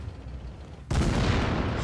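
An SU-152 tank destroyer fires its big cannon in the WOT Blitz tank game: a single sudden, loud boom that cuts through a quieter background and rolls on as a sustained roar.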